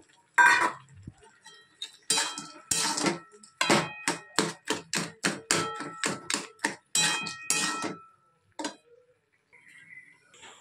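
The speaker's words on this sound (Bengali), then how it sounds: "এবার বড়িগুলো দিয়ে দেবো একটু মিষ্টি দিয়ে দেবো বড়িগুলো ঢেলে দিলাম" Lentil dumplings (bori) dropped into spinach cooking in a pan, a run of sharp, rapid clicks and clinks, close and fairly loud, in quick bursts that thin out and stop, with no talking.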